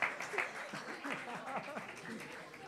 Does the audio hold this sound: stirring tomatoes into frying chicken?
no